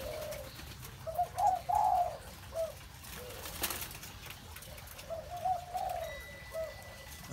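A spotted dove coos while eating bread, giving soft, low, rounded calls in two clusters separated by a quiet gap, close by and heard alone with no voices.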